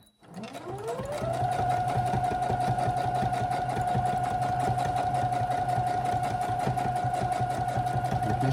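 A sewing machine runs steadily for several seconds, stitching forward and back along the seam of a shoulder bag with a zippered pocket, a close, even motorized hum with a fast rhythmic needle beat.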